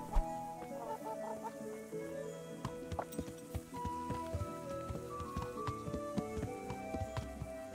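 A chicken clucks repeatedly in Kingdom Come: Deliverance, soft and fairly quiet, with intermittent horse hoof clip-clops and small game-world clatter mixed in around it.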